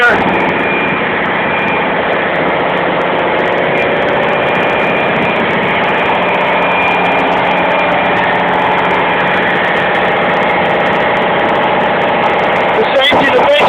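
Inside the engine room of the ship Pacific Producer, the main engine and a generator run together in a loud, steady, droning roar that holds unchanged throughout, with voices barely cutting through near the end.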